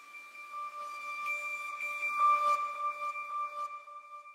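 Synthesized melody sample in an FL Studio trap beat, run through reverb and a ping-pong delay so sustained tonal notes echo and trail off instead of cutting out; steady, moderately loud, no voices.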